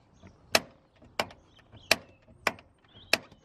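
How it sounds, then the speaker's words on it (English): A worn 1992 Peugeot 205 1.8D Junior with 200,000 miles makes a sharp clicking creak as its door opens, repeated five times at a steady pace, close and fairly clear over a quiet background. "this noise when you open the door,"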